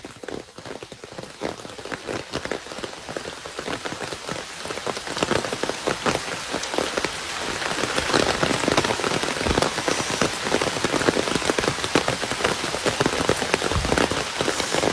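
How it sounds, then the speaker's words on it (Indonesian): Heavy rain pouring down hard and steadily on surfaces outdoors, a dense close roar of drops that grows louder and more intense partway through, with no voices. "Lebat hujan ni."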